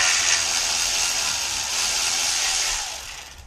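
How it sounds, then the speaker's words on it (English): A socket tool whirs steadily and loudly while removing star bolts from a Honda Prelude transmission, a continuous bright grinding hiss that eases off in the last half second. "So we are going to remove these star bolts"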